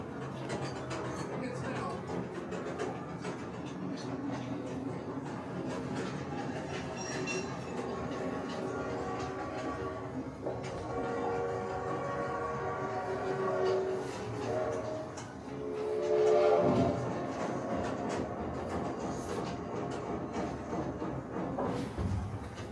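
A recorded train ride plays in a museum exhibit, giving a steady rolling rumble with clattering wheel and car noise and occasional swells, while voices talk over it.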